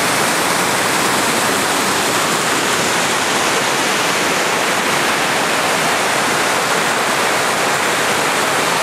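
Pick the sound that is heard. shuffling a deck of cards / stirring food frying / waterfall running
waterfall running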